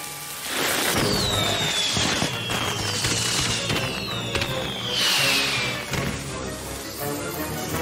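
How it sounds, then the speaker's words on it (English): Untested magic fireworks going off in a My Little Pony: Friendship Is Magic cartoon, with whistling streaks sliding across the sky and loud crackling bursts that swell and fade twice. "Why would untested magic fireworks that I bought in a back alley from Trixie at midnight be unsafe?"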